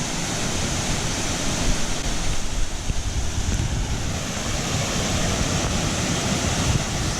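Waterfall at Buck Gulch, a steady broad roar of rushing water, loud and constant with no breaks, close by and without voices.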